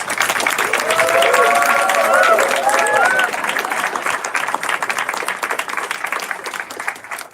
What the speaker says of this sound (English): Please, again, a round of applause to cheer him up.